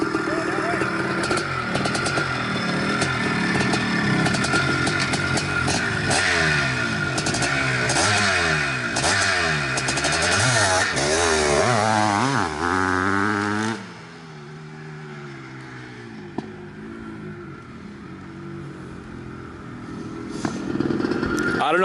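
A 1983 Maico 490 Spider open-class motorcycle on Hoosier tires in dirt launches for a holeshot start, its loud engine revving hard and climbing through rising pitch sweeps before dropping off, with talking heard alongside.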